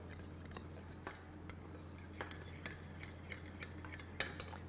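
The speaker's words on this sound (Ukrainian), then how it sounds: "Використовуючи виделку, я починаю вимішувати." Fork stirring tapioca maltodextrin mixed with spiced oil in a bowl, giving faint scattered clinks and scrapes of metal on dish, quiet and close with no talk.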